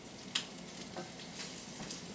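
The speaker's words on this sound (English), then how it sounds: "And you hear a little sizzle, you know the pan is warming up." Soft, steady sizzling of chicken frying in a hot pan, a low crackle throughout with one brief sharp tick near the start; no voices.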